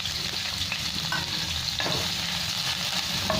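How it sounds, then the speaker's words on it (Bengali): Potato and onion fry in oil in a pan, a steady bright sizzle running throughout with occasional soft scrapes of stirring, close and continuous with no voices. "দিয়ে আলু পেঁয়াজটা ভেজে নেবো"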